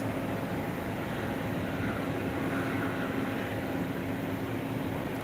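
Steady, broad roar of an Etihad airliner at Phuket International Airport, a continuous jet engine wash holding constant loudness throughout.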